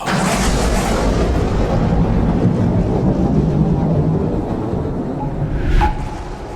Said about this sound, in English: And then another burst of thunder rocked the chamber.